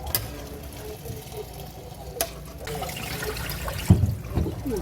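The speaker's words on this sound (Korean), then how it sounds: "불 꺼주신 상태에서 이제 찬물로 한번 헹궈줄게요" Cold tap water runs and splashes while blanched webfoot octopus is rinsed in a kitchen, a steady close wash with a few louder sloshes and clatters toward the end.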